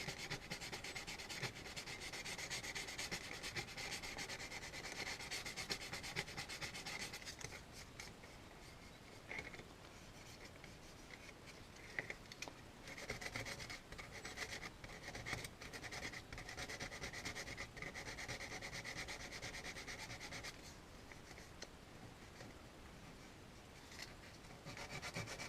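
Hand sanding with a worn sheet of sandpaper, likely on wood: a steady, close rasping rub that runs continuously with slight changes in stroke, no voices.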